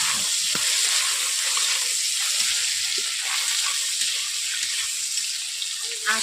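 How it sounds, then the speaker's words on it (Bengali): Achra frying with onions in a pan for a pui shaak raita, a loud continuous hissing sizzle heard close up, with a few faint knocks of stirring. "এরপর দিয়ে দিচ্ছি আঁচড়াকে পেঁয়াজের সঙ্গে আমি ভেজে নিচ্ছি"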